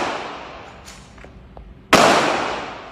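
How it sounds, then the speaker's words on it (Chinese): A single loud, sharp shot from a long gun fired at night in a residential alley, with a faint reverberating tail trailing off after the blast. "巨大枪声让人惊呆，"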